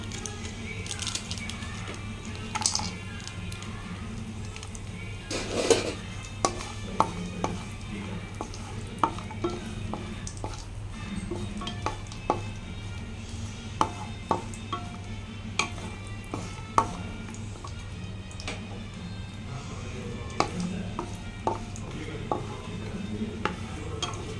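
Almonds and raisins frying in ghee in a pan for rava laddu, a steady close sizzle with repeated scraping, clicking stirs of a spoon against the metal throughout, no talk.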